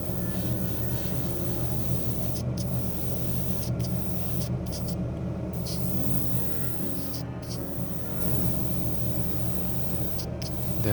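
An airbrush or spray can lays down a gloss black base coat on a BMW M4 G82 wide-body scale model, a steady close hiss running continuously with a few brief pauses between passes.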